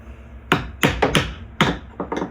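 A hammer strikes a punch to knock loose a cowl part on an E36 car, giving about six sharp metallic taps in an uneven rhythm, close and fairly loud, with no talking.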